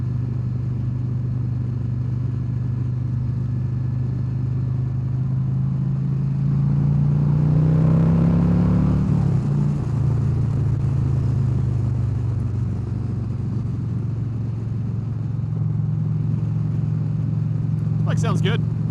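2023 Harley-Davidson CVO Street Glide with a 121 V-twin engine while riding, a steady low rumble that swells as it pulls harder midway, then eases back, with a voice talking over it.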